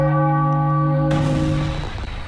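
Bell rung to celebrate a Phillies baseball win, a single loud struck tone with long ringing overtones, followed by a swell of crowd or room noise as the ring fades.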